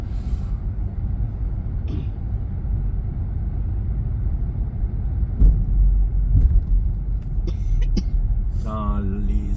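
A Tesla Model 3 rolls through the open bow into the car hold of the Baie-Comeau to Matane ferry, a steady low rumble with a few soft knocks and a faint squeal near the end. Some low voices may murmur underneath.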